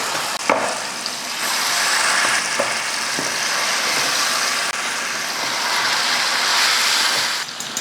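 Marinated chicken going into hot oil for a chicken gravy, producing a loud, continuous frying sizzle with a few clinks of stirring, close by and with no voices.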